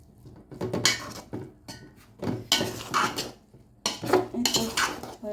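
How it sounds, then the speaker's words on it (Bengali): A ladle scraping and clinking against a pot while stirring cooked egg pulao, three bursts of metallic scraping separated by short pauses, close and fairly loud. "এখন পোলাওটা নাড়া দিয়ে দেখব।"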